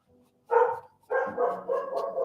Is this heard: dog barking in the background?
yes